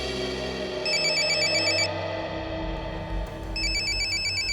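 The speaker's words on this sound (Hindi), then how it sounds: "किसका फोन है?" A telephone rings with an electronic ringtone in a tense CID crime drama scene, two bursts of bright chirping separated by a short pause over a low room hum, with no one speaking.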